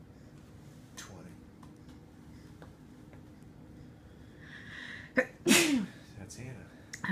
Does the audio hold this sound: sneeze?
yes